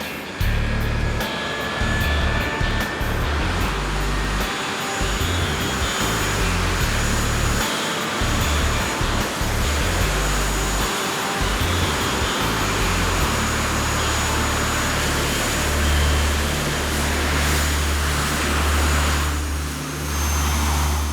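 Powerful engines roar loud and steady throughout an attempt to flip a taxi cab, a dense broadband blast with deep rumbling that holds without pause and no talking.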